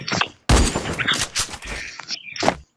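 Video game gunfire during a headshot fight, a few sharp bursts of shots in quick succession, loud and close with brief gaps between.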